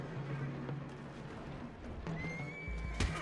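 A horse in the video game Red Dead Redemption 2 whinnies over a steady game-like background hum, with a brief rising squeal and a thump near the end.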